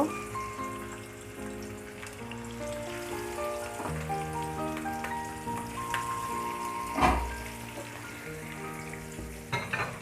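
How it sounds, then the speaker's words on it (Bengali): Hilsa fish frying in oil, a soft, continuous crackling sizzle with scattered pops and a few louder clunks, heard alongside faint musical tones in the background. "এখন এটাকে তেলে ভেজে নেব আমরা সাধারণত যেরকম ইলিশ মাছ ফ্রাই করে ভাত খেয়ে থাকি"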